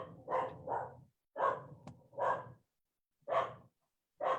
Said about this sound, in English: Why that dog's going crazy?